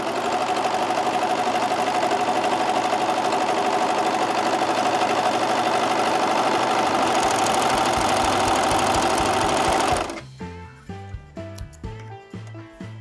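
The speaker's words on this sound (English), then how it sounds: "we're going to just test it out on some scrap fabric and make sure everything cuts good" Serger sewing machine cutting scrap fabric with freshly changed knives, a fast, dense mechanical whirr running steadily for about ten seconds before stopping, followed by a few soft clicks and knocks.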